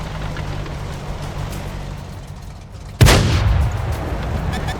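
A single loud tank cannon blast from the World of Tanks console game cracks out after a steady engine drone, followed by a lingering rumble and rattle.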